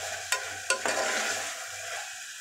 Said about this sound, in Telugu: ఇలా స్పూన్తో కలుపుతూ ఒక 5 మినిట్స్ వరకు అల్లం వెల్లుల్లి పేస్ట్